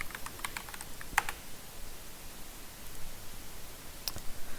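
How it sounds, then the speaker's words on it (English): Keys on a computer keyboard clatter in a few quick clusters of light clicks, close and fairly quiet, separated by near-silence with a faint background hiss. "if I go to the browser and I type in ATP ranking"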